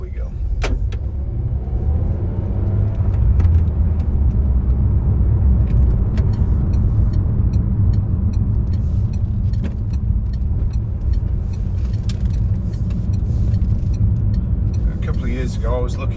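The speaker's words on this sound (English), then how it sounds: "I'm just going to take you a quick virtual test drive in this Peugeot RCZ." Peugeot RCZ on a road drive near Hoghton and along the M65, with a steady, loud low engine and road rumble throughout, tyre noise, a few faint clicks and brief high taps.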